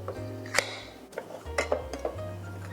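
A butter knife prying at the lid of a glass jar gives a few sharp metallic clinks and taps, irregularly spaced and close up, over a low steady hum, with no talk.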